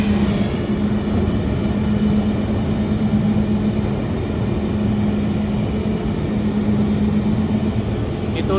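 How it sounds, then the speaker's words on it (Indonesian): A mooring winch on the rear of deck 1 of a large passenger ferry reels mooring rope in a steady, loud mechanical drone with a low hum. It runs continuously throughout, with faint voices in the background. "Itu suara alat buat ngegulung si tambang, juga buat ngulur si tambangnya."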